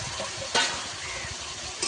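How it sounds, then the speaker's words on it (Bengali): Ridge gourd stirred into spice paste and fried in oil for a fish curry, a close continuous sizzle with a sharp spatula scrape midway and another near the end. "ঝিঙেটাকে দিয়ে একসঙ্গে ভালো করে মিশিয়ে নেবো। মিনিট খানেক একসঙ্গে কষাবো আমি।"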